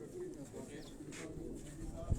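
A crested pigeon coos softly in a low, murmuring run over a steady background hum, with someone talking nearby.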